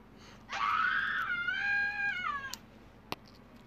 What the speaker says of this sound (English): I've never heard screaming like that before.